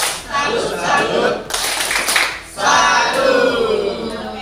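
An Indonesian government training group performs a rhythmic 'tepuk salut' clapping chant, hands striking in short patterned bursts with voices mixed in, fairly close and lively.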